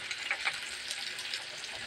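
Onion frying in a pan for a hilsa fish curry, a soft continuous sizzle with light crackling and spitting close by, fairly quiet throughout.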